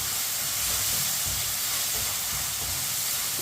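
Tomatoes cook in a pan for a chicken and tinda dish, giving a steady, even sizzling hiss that continues without pause and with no talking.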